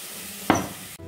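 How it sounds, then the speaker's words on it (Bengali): Onions fry in a little white oil over a low gas flame for a curd chicken dish, a soft steady sizzle with one brief louder hiss or stir partway through. "পেঁয়াজটা গ্যাস কমিয়ে কমিয়ে ভাজার জন্য পেঁয়াজটা কিন্তু ভালোভাবেই ভাজা হয়ে যাচ্ছে ওই একটুখানি তেলের মধ্যেই"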